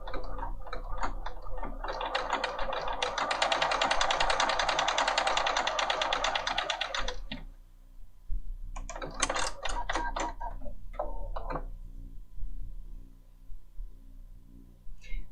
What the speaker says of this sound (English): Let's go ahead and stitch a second row.